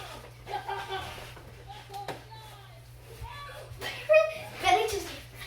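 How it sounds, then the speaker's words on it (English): A voice shouts and chatters outside the window, muffled, under a steady low hum, with a louder cry near the end. "I don't know if you guys can hear Bennett outside the window"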